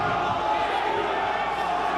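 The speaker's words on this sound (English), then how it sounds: "And listen to this crowd" Noisy arena crowd at a CZW professional wrestling show chanting in a dense, continuous roar, with a commentator talking over the top.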